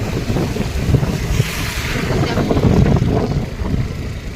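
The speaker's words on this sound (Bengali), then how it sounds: "এই দেখো কেমন জলের স্রোত যাচ্ছে।" Flood water streaming along a submerged road during rain, a loud, constant rushing wash mixed with heavy wind buffeting on the microphone, close and unbroken throughout.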